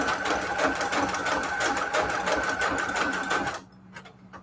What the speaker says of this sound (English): And I have my sewing machine set to, oops, something just bunched up.